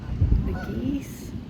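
Geese honk in a short burst by a creek over low rumbling background noise, fairly close, with a brief rising call near the middle.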